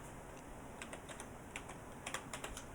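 Fingers tap quick, light keystrokes on a computer keyboard in short irregular bursts, close and clear over a faint steady hiss.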